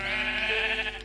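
A sheep bleats in the Minecraft video game on PS3, a single loud, wavering game-sound bleat lasting about a second, close and alone without talk.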